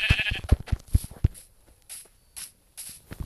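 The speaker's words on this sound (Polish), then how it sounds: "Właśnie zabiłem owce." Sheep in the video game Minecraft, heard as a rapid series of short, punchy thumping hits followed by several softer, breathy bursts, loud and close with no talking.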